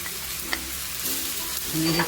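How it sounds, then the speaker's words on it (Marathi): Onion, garlic and tomato sauté in a pan, a steady close sizzle with a few soft clicks of a spoon stirring, growing slightly louder toward the end; no talking. "आपला कांदा थोडासा भाजत आलाय आपण हे टोमॅटो पण टाकून घेऊ त्याच्यामध्ये"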